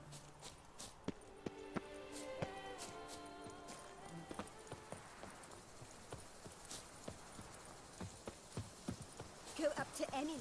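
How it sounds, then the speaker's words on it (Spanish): Hooves of a horse in The Witcher 3: Blood and Wine clip-clop in a steady run, fairly close, under game music and a man's speech. "Sí, llamo al caballo."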